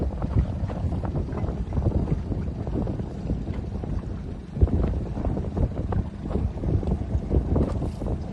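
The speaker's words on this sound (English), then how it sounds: "Breeze is lovely, 8 to 12 knots, boats are fully powered up," Steady wind of 8 to 12 knots buffets the microphone in a continuous gusty rumble, with faint water and sailing boat noise beneath it during a sailing regatta.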